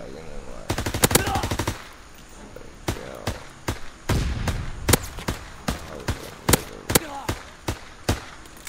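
Rapid bursts of gunfire from a gun in Call of Duty: WWII, a fast automatic string followed by a series of sharp, separate shots spaced irregularly, loud and close with game ambience between them.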